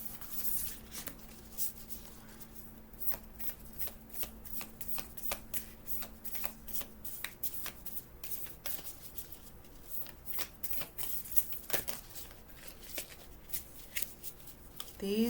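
Oversized tarot-style cards are shuffled repeatedly in quick, crisp riffles and snaps, close by, with a long run of steady shuffling sounds and no clear speech.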